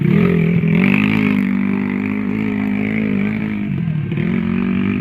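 Trail motorcycles at a motocross competition, a near, sustained engine drone with wavering pitch as the bikes rev, with no clear talk over it.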